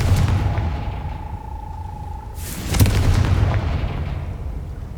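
A Confringo fire spell in the video game Hogwarts Legacy, heard as a charged tone that ends in a single heavy booming blast with a rumbling tail, loud and close.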